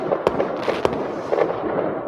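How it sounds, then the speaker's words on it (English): Fireworks popping during a small Fourth of July–eve backyard celebration, several sharp cracks and bursts at irregular intervals over a steady crackling background, fairly close and loud. "Get some fireworks going."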